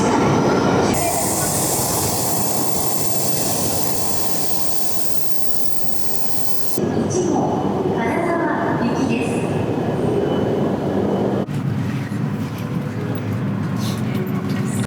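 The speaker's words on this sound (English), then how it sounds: "The Shinkansen bullet train was incredibly smooth and incredibly fast." A Shinkansen bullet train runs at speed, heard from inside as a loud, continuous rushing roar with a high hiss at first, shifting in tone as the ride goes on.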